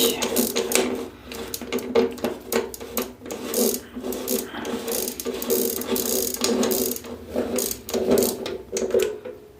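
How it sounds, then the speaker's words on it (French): A bicycle freewheel being unscrewed, its ratchet pawls clicking in loud, rapid bursts that start and stop with each turn, close up and with no voice over them. "Donc on va retirer l'écrou. il ne reste plus qu'à dévisser."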